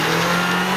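Car engine revving up close, a short steady mid-pitched roar with a strong hum, heard on its own.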